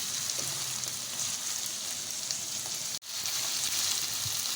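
Beef with ginger garlic paste fries in a pan with a steady, soft sizzle that continues throughout, broken only by a brief dropout partway through; no voices.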